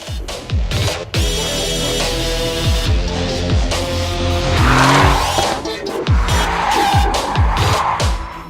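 A 2018 Aston Martin DB11 drifts on a race circuit, its tires squealing and skidding loudly over a roaring, revving engine for several seconds, close and with no talking.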